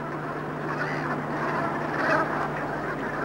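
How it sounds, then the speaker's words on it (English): Geese and gulls call together on the Isle of Portland, a dense, continuous wash of honks and cries from a flock outdoors under a steady low hum. "The geese are often joined by gulls"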